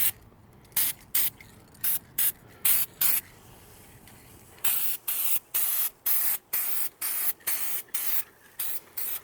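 Repeated short hisses of an aerosol spray paint can coating a 1937 Westinghouse WR-212 radio chassis, about two dozen bursts of roughly half a second each, close and loud, with brief pauses between them.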